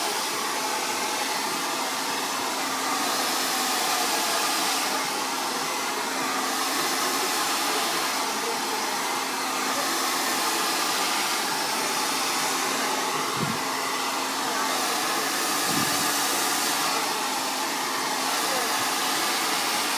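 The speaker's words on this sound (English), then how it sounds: "So you want to make sure you blow dry everything." A hair dryer blows steadily while hair is blow-dried with a round brush, a loud continuous close whoosh with slight pulsing, a voice faintly underneath.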